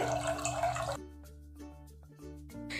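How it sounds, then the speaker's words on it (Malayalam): A litre of milk pours into a saucepan with a brief rushing splash. The pour then thins to quieter liquid sounds over a steady tonal background. "ഈ സോസ് പാനിലോട്ട് ഞാൻ ഒരു ലിറ്റർ പാൽ ഒഴിച്ചു കൊടുക്കുന്നുണ്ട്"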